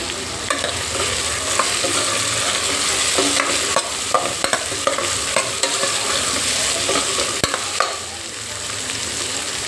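Capsicum sautéing in a pan for a pressure-cooker veg biryani, loud continuous sizzling with frequent scraping strokes of a spatula throughout.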